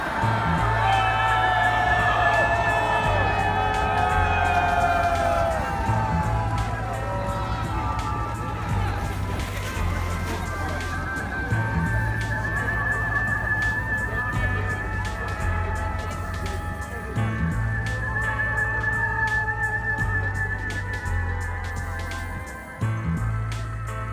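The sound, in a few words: crowd shouting Ura (hooray) at Moscow Victory Day parade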